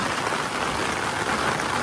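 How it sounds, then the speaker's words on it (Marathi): Steady, dense rain pours down continuously over rice fields near the sea, a loud hissing wash of drops with no pauses. "भरतीच आहे ना, एवढा पाऊस पडतोय."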